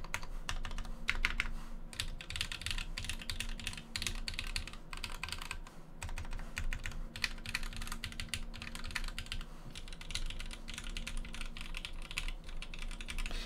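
Close, steady typing on a Cypher mechanical keyboard fitted with Tangerine switches and a PC plate, a dense run of rapid clacky keystrokes with brief pauses and no talking.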